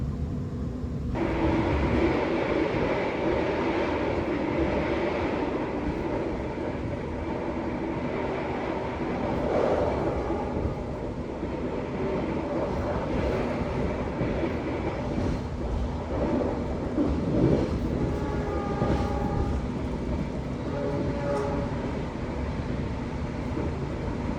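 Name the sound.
Manahan executive passenger train running on rails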